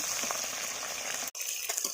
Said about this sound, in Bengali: তেল গরম হয়ে গেছে মাছগুলো একে একে ছেড়ে দেব মাছগুলো সব তেলের মধ্যে দিয়ে দিয়েছি